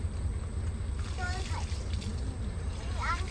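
Water poured over the red front section and four small pillars of a boat in a ritual in the Sundarbans, giving intermittent splashes and trickles under continuous talking voices, with a steady low engine hum.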